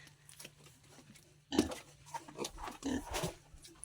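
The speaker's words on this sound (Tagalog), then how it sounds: "Ang dumi na naman ng ating alagang baboy." A pet pig grunts and snuffles close by in a dirty pen, a burst of loud grunts after a quiet start, followed by more rough, uneven grunting.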